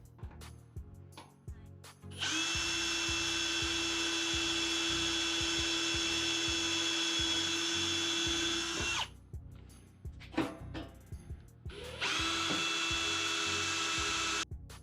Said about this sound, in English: drilling the holes for the front here